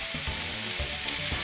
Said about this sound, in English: this is the true nature of a good fajita, is when you hear that sizzle